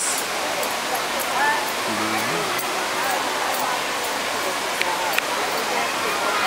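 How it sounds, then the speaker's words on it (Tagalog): Steady rushing water roars continuously, like a waterfall close by; a brief voice pops up faintly partway through. "Ayun, waterfalls."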